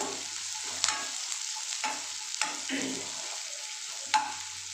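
Onions frying in a pan and stirred with a spatula, soft steady sizzle with a few sharp scrapes against the pan, close and quiet, no talking.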